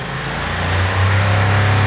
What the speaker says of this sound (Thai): ยังคงเป็นท่อเดิมนะฮะฟังเสียงท่อคันนี้กัน